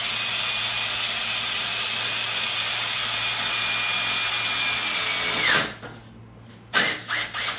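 A power drill drives screws into wood, its steady whine running loud and continuous for several seconds before cutting off, followed by a short second burst near the end.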